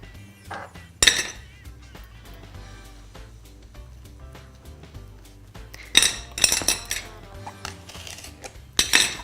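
A knife trimming the tough part of a cabbage leaf on a board while preparing stuffed cabbage leaves: scattered taps and clinks of blade and utensils, with sharp louder knocks near the start, middle and end.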